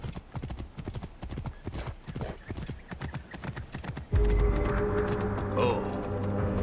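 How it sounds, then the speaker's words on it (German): Rapid horse hoof clops in Assassin's Creed Origins patter steadily, then a louder, denser stretch of game sound with a steady tone takes over partway through. "Da bist du ja, Pferd."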